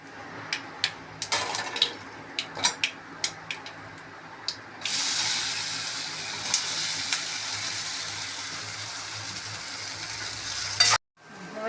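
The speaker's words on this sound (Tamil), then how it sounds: "கடுகு கொஞ்சம், ஜீரகம் கொஞ்சம், உளுத்தம்பருப்பு கொஞ்சம், பெருங்காயம் கொஞ்சம், கருவேப்பிலை கொஞ்சம், நல்லா பொரிய" Mustard seeds, cumin, urad dal, asafoetida and curry leaves hit hot oil in a pan: sharp scattered pops at first, then a sudden loud, hissing sizzle that roars steadily before cutting off abruptly.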